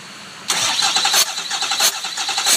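A Ford Powerstroke diesel engine cranks with the starter whirring, close and loud, and the rhythmic puffs of a cylinder pulse through it, with no talk.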